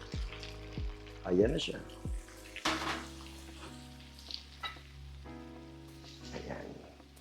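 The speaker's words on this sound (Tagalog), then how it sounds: "lalagyan ko ngayon ng konting tubig yan. Half cup." Hotdogs frying in a pan with about half a cup of water added, a steady sizzle and bubbling with clattering stirring and a few clanks, while someone talks over it.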